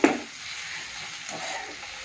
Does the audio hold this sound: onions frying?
yes